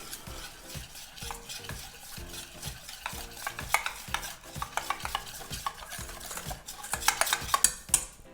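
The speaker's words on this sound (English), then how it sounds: "You're just going to whisk that together until cream through" A whisk beating an espresso powder dip in a bowl, rapid rhythmic clinking taps of metal against the bowl, close and busy, growing brisker and brighter toward the end, with no talking.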